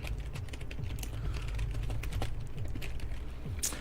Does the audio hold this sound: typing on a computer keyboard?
yes